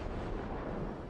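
Destroyer guns firing in World of Warships, a dense, continuous low rumbling blast that fills the whole short moment, loud and close with no talk.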